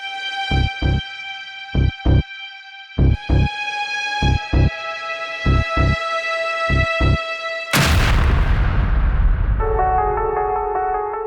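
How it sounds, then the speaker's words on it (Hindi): A series of evenly spaced tonal beeps, then a sudden loud explosive burst of a laptop with a roaring tail, followed by a faint lingering tone. "धमाका"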